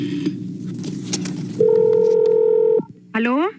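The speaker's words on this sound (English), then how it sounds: "Always fun to watch a rotary phone in action." Telephone tones sound across a rotary phone dialing scene: a low rumble of ambience and movement, then a loud steady tone held for over a second, followed by a brief rising chirp of tones.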